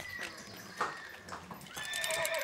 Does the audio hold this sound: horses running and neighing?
yes